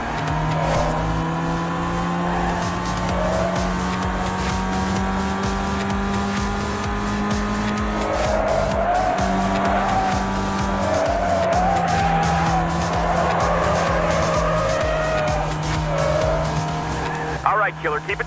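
A Chevrolet Sonic races in the GT Racing 2 video game, its engine droning steadily while tires squeal in repeated wavering bursts, ending in a sharp screech; game music or voices sit faintly underneath.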